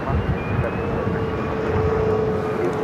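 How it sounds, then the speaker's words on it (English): A Delta Airlines A321 arriving on runway 8 at Phoenix Sky Harbor airport, a continuous rumbling jet roar that holds steady and fairly loud at a distance, with no other sounds standing out. "Arriving in runway 8 there on the north side was Delta Airlines, flight 2274, A321, coming from Minneapolis."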